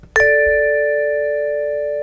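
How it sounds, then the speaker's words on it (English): A single struck vibraphone chord rings out and sustains with a slow, gentle decay, close and clear. "I had my son and one of my friend's daughters play the vibes"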